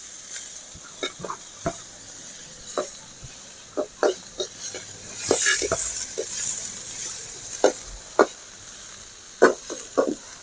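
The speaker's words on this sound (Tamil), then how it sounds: "இதில் நம்ம வெங்காயத்தை போடணும் வெங்காயத்தையும் நல்லா" Onions fry in a pan with a soft, steady sizzle and sharp periodic clicks and scrapes of a spoon stirring against the metal.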